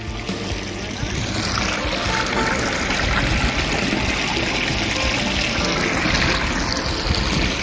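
Clean water flowing steadily along a drain channel in Japan, a constant close rushing and splashing wash at an even loudness throughout.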